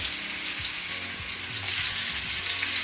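Chicken sizzles steadily while browning in a hot pot for Panamanian chicken stew, a constant bright crackle with occasional soft scrapes and clinks from stirring.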